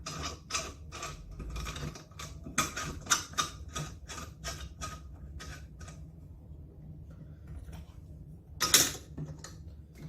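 A screw being fitted on a Sparta bench drill press stand, with rapid clicking, ratcheting and metallic ticks in uneven bursts, close by, ending in a brief sharp scrape.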